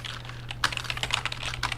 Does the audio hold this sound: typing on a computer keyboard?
yes